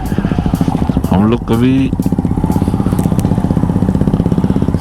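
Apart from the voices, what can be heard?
Hero Glamour 125cc motorcycle riding on mountain road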